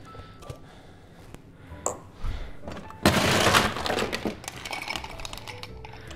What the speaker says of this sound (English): I want to shake really hard to emulsify that egg white or the aquafaba.